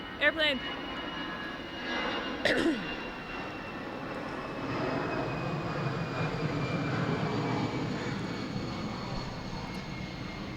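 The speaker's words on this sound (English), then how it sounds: "Airplane." A fixed-wing airplane passes overhead, a steady broad engine roar that holds for about ten seconds, with a few brief sounds and voices near the start.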